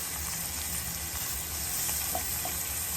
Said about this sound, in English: And we are going to saute this first,